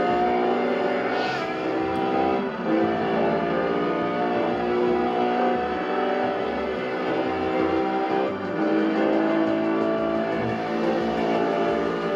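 A race car in Test Drive Unlimited roars continuously as it accelerates hard alongside a Corvette, the engine holding a loud, sustained high-revving drone with gear-change dips.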